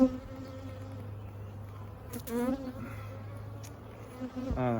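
A steady low hum of honeybees buzzes from an open beehive during a spring inspection of a single brood chamber, faint and continuous, with a few handling knocks and rustles.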